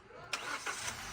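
Hyundai Accent engine starting in one quick click, a short crank catching almost at once into a steady running note, near and without talk.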